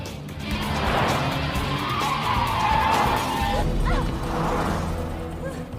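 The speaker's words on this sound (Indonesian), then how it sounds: "Fang Jing juga ternyata mengejar Sunny dan berhasil melompat ke atas mobil Sunny" Tires skid and squeal in a sustained screech over a loud engine roar during a car chase in a gangster action film about an undercover police officer.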